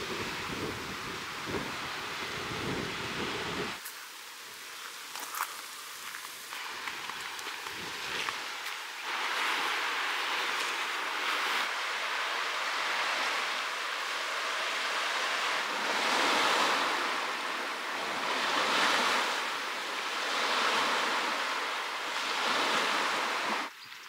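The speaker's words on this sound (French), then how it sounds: "mais alors ce vent là, ça fait tellement de bien." Wind blowing at Lake Ahémé in Benin, a broad rushing roar with gusts swelling and easing, buffeting the microphone loudly throughout with no talk.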